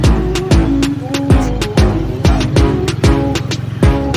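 A motorcycle engine with an opened exhaust pipe pops and revs in a loud, close, throaty rhythm, with sharp repeated surges that each fall away about twice a second.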